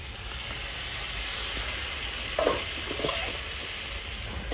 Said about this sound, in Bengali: বন্ধুরা ম্যারিনেশন করে রেখেছিল সেই জলটা দিয়ে দিচ্ছি।